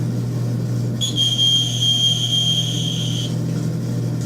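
A small electronic buzzer wired into a flexible graphene device sounds one steady, high-pitched tone lasting about two seconds. A low background hum runs under it.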